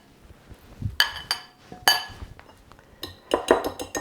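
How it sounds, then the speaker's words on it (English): Carrot cake ingredients being mixed in a bowl, heard as several sharp clinks and scrapes of a utensil against the bowl in short bursts, fairly close, with no talking. "Mix them all in."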